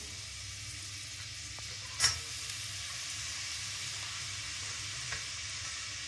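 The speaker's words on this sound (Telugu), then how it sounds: "ఫస్ట్ ఉల్లిపాయ ముక్కలు వేసుకోవాలి." Onion pieces fry in a pan with a steady, even sizzle throughout, broken by one brief utensil clink and a faint tap later on.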